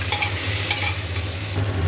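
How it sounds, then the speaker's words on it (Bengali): Potatoes and carrots frying in a pan while being stirred, a steady close sizzle with scraping stir strokes throughout, with no talk. "সবজি সব দিয়ে দিয়েছি, একটু ভালো করে ভাজা হচ্ছে।"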